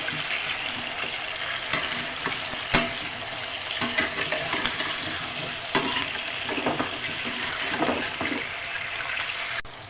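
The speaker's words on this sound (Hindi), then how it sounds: "जिस तरह हम चिप्स के लिए आलू फ्राई करते हैं, बिल्कुल उसी तरह आपने इन आलू को फ्राई करना है।" Potato slices frying in hot oil while a spoon stirs them, with a steady close sizzle broken by scattered scrapes and clinks against the pan.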